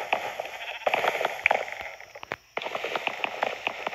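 Sheep bleat repeatedly in Minecraft Pocket Edition, with short game-sound bleats over a steady background and a brief quiet gap partway through.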